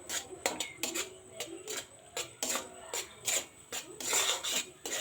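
Semolina and milk thickening into a stiff dough in a pan while being stirred, giving a run of rasping, scraping strokes in an uneven rhythm, close and fairly soft, with no talking.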